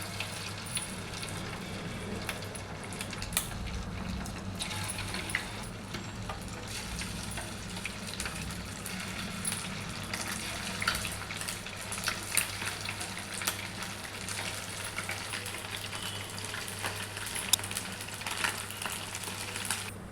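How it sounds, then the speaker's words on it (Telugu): Egg 65 batter deep frying in hot oil, a steady dense sizzle and crackle continuing evenly throughout with faint kitchen clatter, no talking. "సో దీన్ని ఇలా డీప్ ఫ్రై చేసుకోవాలన్నమాట"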